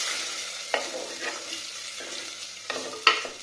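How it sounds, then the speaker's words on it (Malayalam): Garlic and shallots frying in a pan are stirred with a utensil, giving a steady sizzle broken by a few sharp scrapes and clicks, close and alone. "വെളുത്തുള്ളിയും ചെറിയ ഉള്ളിയും കൂടി ചേർത്ത് ഒന്ന് ഇളക്കി കൊടുക്കാം."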